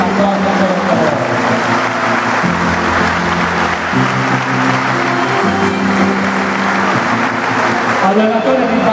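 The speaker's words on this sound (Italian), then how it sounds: "un applauso per il lavoro" An audience applauds at a Fasano basketball club's 2012-2013 season presentation, with steady clapping over background music and voices.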